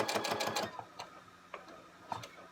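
A sewing machine stitches and back-stitches a fabric face mask, with a quick burst of close, rapid mechanical clatter followed by a few short isolated ticks as the needle steps, heard alone and fairly quiet.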